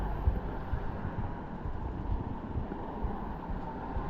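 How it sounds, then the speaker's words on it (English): A lorry's diesel engine idles and rumbles steadily at a security gate as it pulls away, a continuous low drone with wind buffeting the microphone throughout. "Lorry starts his engine."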